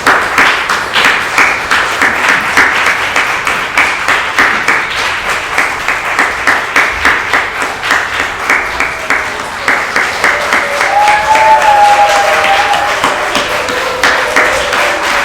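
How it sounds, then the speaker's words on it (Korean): A graduation ceremony crowd claps steadily and vigorously as the graduates walk out, a continuous loud wash of applause with a faint tone near the end. "여러분 힘차게 박수 쳐주세요"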